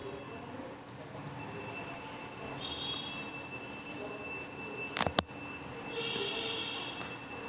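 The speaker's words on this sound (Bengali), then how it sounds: "এনজেপি যাওয়ার ট্রেন।" A passenger train bound for NJP rolls past on the Kalinarayanpur bridge, its wheels squealing and grinding steadily, with a sharp clatter burst midway. Heard from some distance and fairly faint, with no talking.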